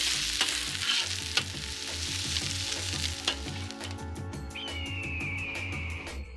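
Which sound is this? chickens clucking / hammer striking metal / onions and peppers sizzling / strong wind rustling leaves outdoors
onions and peppers sizzling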